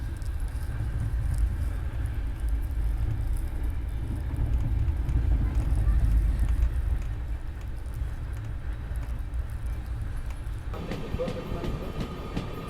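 Ahmedabad Double Decker Express with a WAP-4 locomotive passing at about 130 km/h alongside the Goa Rajdhani Express, a loud steady rumble of wheels and carriages rushing by close, with a sharper clattering shift near the end.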